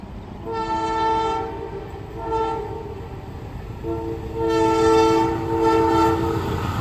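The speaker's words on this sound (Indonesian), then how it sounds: "Kereta api Gumarang dari stasiun Surabaya Pasar Turi dengan tujuan akhir stasiun Jakarta Pasar Senen melintas" The Gumarang passenger train passes through Kandangan station, sounding its horn in three long chords over a continuous rumble of rolling wagons, close and loud.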